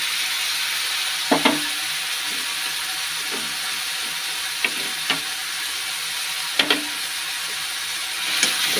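Green chilli, cumin, turmeric and salt sizzle in hot frying oil, a steady close hiss punctuated by a few scraping, clinking stirs of a spatula against the pan.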